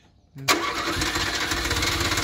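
A Renault 4L engine cranks briefly then catches and roars to life, settling into a loud, rough idle close by.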